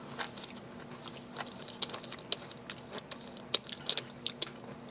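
Someone chews a crunchy South Korean bellflower root snack at close range, giving faint, scattered crisp bites and crunches over a quiet background hum.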